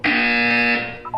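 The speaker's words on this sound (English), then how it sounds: "When you hear the buzzer, look up at the ceiling." A Portal 2 buzzer blares as one loud, sustained electronic tone for nearly a second, then fades out with a couple of brief chirps.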